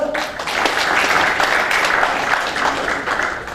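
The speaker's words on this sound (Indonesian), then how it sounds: "tepuk tangan Bapak Ibu" An audience at a health seminar in Yogyakarta applauds steadily for a few seconds, a dense even wash of clapping at moderate loudness with faint voices mixed in.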